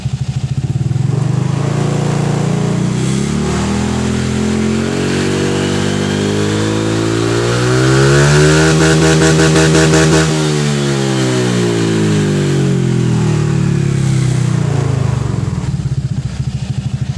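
A Honda Vario 150 scooter fitted with a racing pulley revs up close by, its engine pitch rising to a peak and then falling back down in one long, smooth sweep, with no voices over it.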